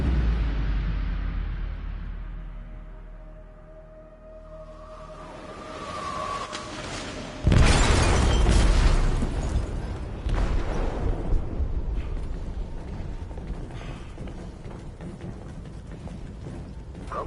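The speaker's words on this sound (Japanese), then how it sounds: "貨物室で爆弾が爆発しました" A bomb explodes in a ship's cargo hold in the video game Detroit: Become Human, setting off a loud, sudden boom midway that gives way to a long, heavy rumble and mechanical clanking as the ship sinks.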